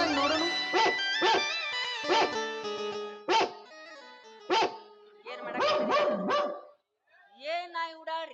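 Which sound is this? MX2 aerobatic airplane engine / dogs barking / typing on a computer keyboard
dogs barking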